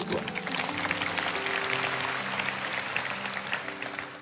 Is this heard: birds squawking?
no